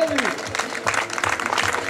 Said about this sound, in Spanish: Ese fuertísimo aplauso para él.